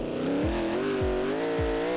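A track car engine revs hard and close. Its pitch climbs and falls in smooth sweeps, with sharp rising blips as the gears change. The sound is loud and steady, with no voices over it.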